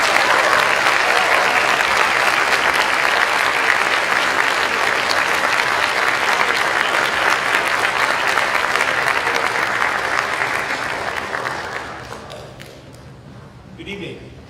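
Loud, dense applause from a school awards-night audience for the jazz band and its director fills the hall for about twelve seconds, then fades as a few voices carry on.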